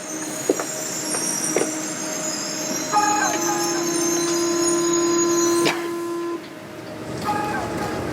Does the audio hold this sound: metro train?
yes